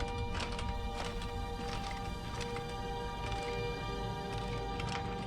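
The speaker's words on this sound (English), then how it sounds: "There's a horse." A horse clip-clops and whinnies in the video game Skyrim VR, faint and distant under a steady wash of ambient background noise, with no voices.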